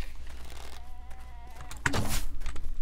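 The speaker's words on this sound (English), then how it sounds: "There's a goat." A goat in the video game 7 Days to Die lets out a single close, loud bleat that wavers and trails off over faint game ambience.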